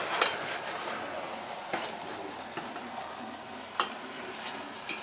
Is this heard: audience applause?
no